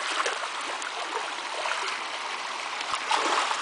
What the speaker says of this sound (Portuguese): Aí a cachoeira da hora aí.